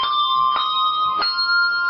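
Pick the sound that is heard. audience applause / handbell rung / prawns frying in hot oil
handbell rung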